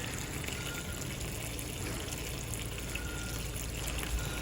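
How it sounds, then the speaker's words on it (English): Water runs out of Bio-Renew tubing while a back-pressure check is done, heard as a quiet, continuous gushing rush that holds steady throughout with no speech. "once enough water's coming out, I'll turn it off."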